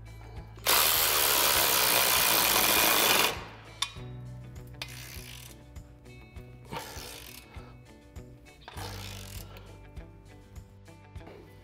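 A ratchet tightens a clamp on a Roush exhaust tip for a Bronco axle-back, a loud burst of rapid ratcheting followed by several shorter clicking bursts with quiet gaps between.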